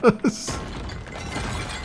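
Clay pots shatter in Star Wars Jedi: Fallen Order, two quick, sharp crashes at the start followed by a light scatter of debris as a person talks.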